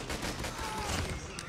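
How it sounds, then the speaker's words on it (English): Dense rapid gunfire in the mobile shooter Call of Duty Mobile during a team match: overlapping bursts of automatic shots crackle continuously and loudly through the whole moment, with a busy game-sound backdrop. "Who's shooting me?"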